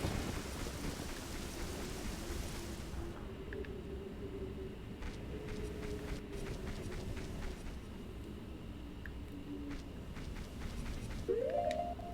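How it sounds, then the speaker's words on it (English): Steady rain and storm ambience from the Ocarina of Time video game, a continuous hiss that softens slightly partway through, with faint tonal game effects and a brief rising tone near the end. "Which is fair because it's raining."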